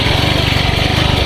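Motorcycle engine running steadily, a loud, close, even throbbing drone with a rapid regular pulse and no talk.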